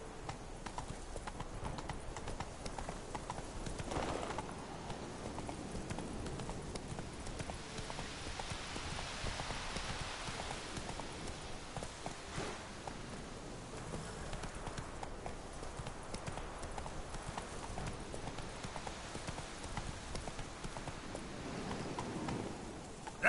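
Roach, the horse in the video game Witcher 3, clip-clops at an unhurried pace. The hooves beat in an even rhythm and sound fairly close, and the gait holds steady throughout.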